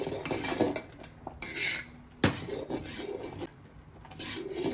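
A spoon scraping and stirring rice and lentil pongal in a metal pot, with repeated rubbing and clinking strokes at close range, no talking.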